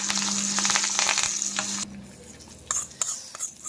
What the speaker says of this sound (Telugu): ఒక చిన్న తాలింపు పెట్టుకున్నాం